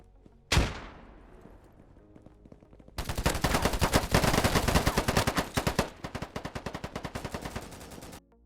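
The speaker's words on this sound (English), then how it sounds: "gunfire is clear depending on how close you are" Gunfire in the low-poly multiplayer shooter POLYGON: one sharp shot with a ringing tail, then a loud, dense burst of automatic fire, followed by a quicker string of separate rapid shots.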